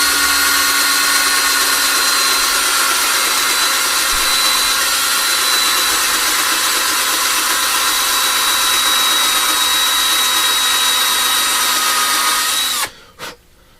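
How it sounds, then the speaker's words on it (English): A cordless drill with a weak battery bores steadily into an RC car axle, giving a continuous high whine for about twelve seconds before it winds down and stops with a short final burst. "So we're back to drilling this out here."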